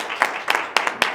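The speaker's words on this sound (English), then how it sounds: "think a bit of a round of applause would be in order" Brief, sparse applause from a small audience at an academic dean's chair presentation, a few scattered claps popping out over a soft background.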